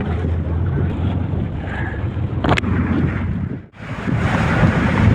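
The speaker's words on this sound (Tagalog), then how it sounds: "Lalaki na naman ang alon." Sea waves slosh and rush around a small fishing boat in Lamon Bay under steady wind buffeting the microphone, with a sharp splash-like knock midway and a brief drop before the roar returns.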